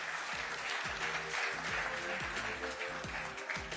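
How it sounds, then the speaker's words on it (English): An audience at a digital payments event in India claps for the Deputy Governor, a fairly faint, steady wash of applause with a low electronic hum running under it. "Please give the Deputy Governor a round of applause."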